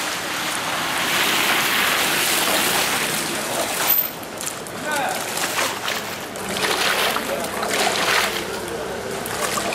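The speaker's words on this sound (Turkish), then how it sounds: "biz de böyle suyun içinde yürüyüp gidip geliyoruz" Footsteps wade and slosh through shallow water from melted snow, with splashing and swishing that rises and falls unevenly while a person talks over it.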